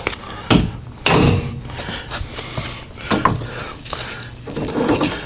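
Several sharp metallic whacks of a hammer striking an engine part on a 1947 Ford, irregularly spaced, loud and close, with clatter and rustling between blows.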